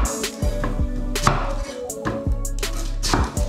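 A knife chopping onions on a cutting board for pancit bihon, giving steady, close, rhythmic knocks about every half second with sharp attacks, over a constant low background hum and no speech.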